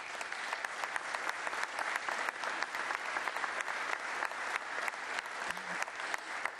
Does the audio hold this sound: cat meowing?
no